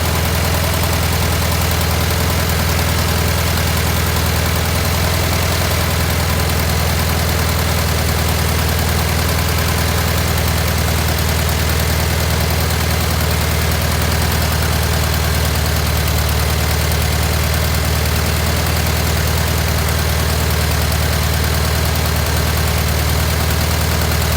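A Volkswagen Thing engine idles steadily with a low, even rumble and faint mechanical vibration throughout, no voices present.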